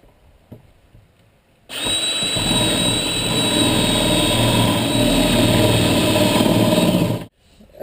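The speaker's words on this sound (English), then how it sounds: "Okay, now that I've got those drilled out," Power drill boring holes for T-nuts in a teardrop trailer wall, one steady loud whine lasting about five and a half seconds close by, with quiet handling noise before it starts and no talk.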